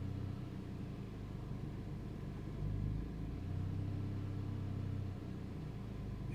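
A new Mercedes-AMG C63 engine idles in Sport Plus mode with a deep rumble and briefly revs higher twice, a close, steady growl with no one speaking.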